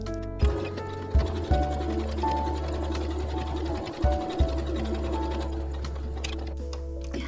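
A sewing machine runs a long straight seam through two layers of fabric for a windmill tapestry, a steady close mechanical whir with brief pauses and restarts.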